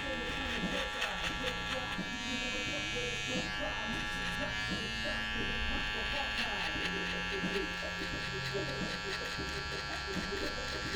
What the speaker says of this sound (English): We've got the wild cordless detailer here.